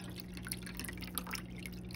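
Spring water is poured into the reservoir of a Keurig coffee maker, a faint, steady trickle and drip running for two seconds over a low electrical hum.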